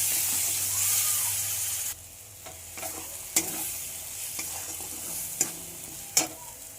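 Poppy seed and cashew paste being stirred in a hot pan for chicken bharta: a loud frying sizzle at first, then quieter sizzling broken by several sharp scrapes and knocks of the spatula against the pan.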